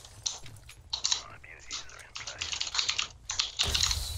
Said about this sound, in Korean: 키보드 소리 조금